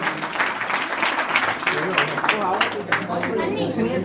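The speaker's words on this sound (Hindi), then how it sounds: "जोरदार तालियों से स्वागत करें।" Applause welcoming a guest at a Hindu religious gathering, a crowd clapping rapidly and steadily for several seconds with background chatter.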